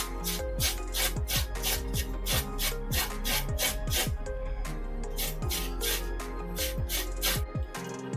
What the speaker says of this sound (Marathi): त्या किसणीनेच आता आपण हे किसून घेऊया।